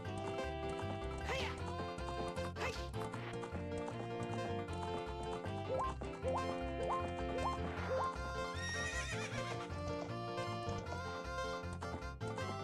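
Horse whinnies and hoof clip-clops from a Fire Emblem video game, set against a dense, continuous bed of game music at steady loudness.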